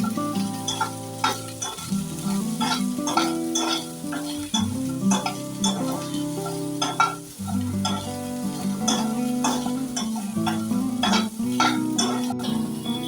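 Cauliflower and other vegetables frying in oil for veg Kolhapuri, a loud close sizzle with repeated stirring clinks and scrapes of utensil against the pan at an irregular pace.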